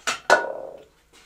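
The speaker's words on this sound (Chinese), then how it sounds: "咱们先把这个牛排给剁" Two sharp cleaver chops into a slab of beef ribs on a wooden block ring out close and loud, the second one resonating briefly, followed by a faint knock.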